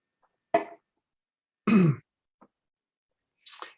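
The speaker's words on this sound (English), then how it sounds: "I'm just about to start coughing" A person coughs and clears their throat in several short, separate bursts with pauses between them: a sharp cough, a longer rough throat-clearing, a tiny catch, then a softer final clearing, close and fairly loud, with no talking.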